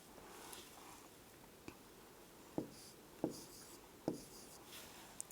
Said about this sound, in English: So, I am going to write the 100 first.